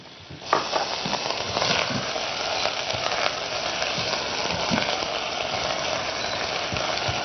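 Butter and onion sizzle in a soup pot in a continuous, moderately loud frying hiss that holds steady after a sharp clank at the start. No one speaks.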